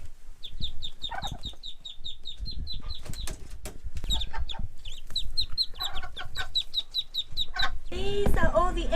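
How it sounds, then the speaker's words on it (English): Young guinea fowl keets give rapid, high, thin peeping calls in quick regular runs, close by, while people talk and move around them. "I haven't been able to introduce you to our Guinea Keets."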